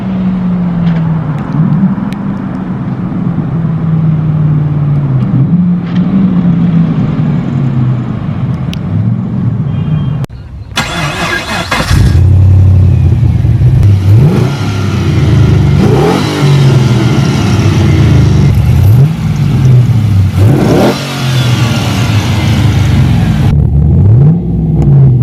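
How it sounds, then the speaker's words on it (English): Toyota Supra Aero Top with a swapped LS3 V8, its engine loud and close, idling and rising through repeated revs and gear pulls while driving. "He's bringing down his Supra."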